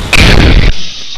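A thrown grenade bursts in a Call of Duty match, one loud, close blast with a rough, crackling body that cuts off abruptly into a faint hiss.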